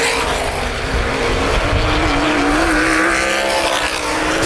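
Sprint cars roar around the dirt oval at Baer Field Speedway during the 2010 Hoosier Outlaw Sprint Series Bill Lipkey Memorial 30, a loud continuous engine drone with rising and falling pitch as cars battle for position.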